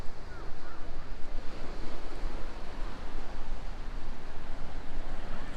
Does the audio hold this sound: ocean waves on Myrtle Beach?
yes